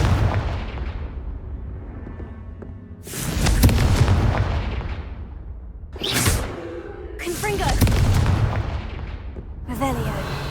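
Confringo blasting spells in the video game Hogwarts Legacy go off as four loud, booming explosions. Each has a sharp crack and a rumbling, fading tail, and they come at irregular intervals among other game effects.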